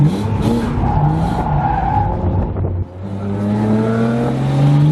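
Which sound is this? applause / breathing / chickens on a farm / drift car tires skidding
drift car tires skidding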